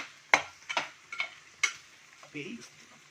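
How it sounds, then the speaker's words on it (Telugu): A spoon scrapes and taps in a pan while cumin powder is stirred into pasta, giving a handful of sharp, close clinks and soft scraping strokes spread over a few seconds against a quiet background. "జీలకర్ర పొడి, మిక్స్ చేస్తున్నా"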